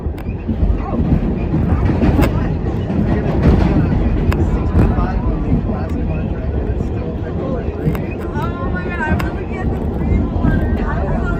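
An NYC subway R46 A train runs loud and close, a dense roar of wheels and motors rumbling under the floor. Brief squeals rise near the end while people talk over it.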